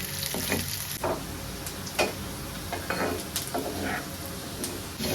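Chopped onion and garlic fried brown in hot oil sizzle loudly as the tempering is poured into jute-leaf lentils, a dense, continuous crackle with a few sharp pops and spatters.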